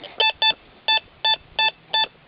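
Electronic target tones from a Teknetics Eurotek Pro metal detector in a test garden: six short, clear beeps in pairs and singles at an even pace, loud and alone with no talking.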